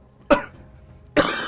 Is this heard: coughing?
yes